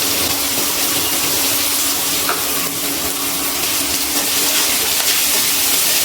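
Chopped medium onion fries in hot oil in a pan, giving a steady close sizzle with a soft hiss and no break, and no talking over it.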